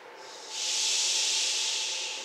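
A school symphonic band imitates a steam engine's hiss in a spring concert piece about trains crossing North Georgia, a broad airy hiss swelling after a moment and holding steadily loud, with no voices.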